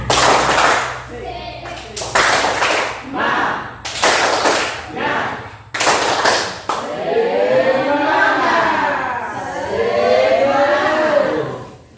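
A group in an Indonesian classroom does a 'tepuk semangat' rhythmic clap chant: bursts of loud, patterned hand clapping in quick sets, then voices chanting together.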